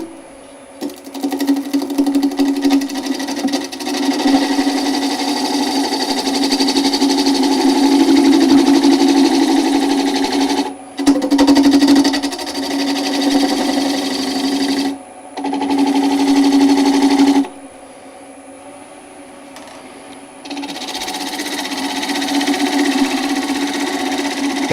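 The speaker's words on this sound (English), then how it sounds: "use a small bowl gouge. And then just taking nice light cuts on this" A bowl gouge takes light cuts on a wooden yarn bowl spinning on a lathe, giving a steady buzzing hum broken by a few short pauses where the tool lifts off.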